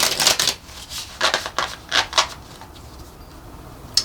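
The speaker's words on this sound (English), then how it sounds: "these cards, I have a hard time shuffling them." Stiff tarot cards are shuffled by hand in several quick, crisp riffling bursts with short pauses between, close and fairly loud, with no talking.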